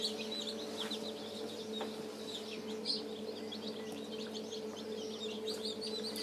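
Chickens and newly hatched chicks of the season's first hatch chirp and peep continuously in an indoor brooder setting in New Zealand, with steady high cheeping over a low hum and occasional clucks.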